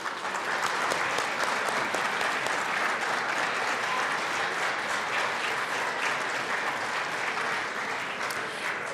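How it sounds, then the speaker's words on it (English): Legislators and guests in a state house chamber give a sustained round of applause, a dense, steady patter of many hands clapping that holds at an even, moderate level for about nine seconds. "Please give them a large round of applause."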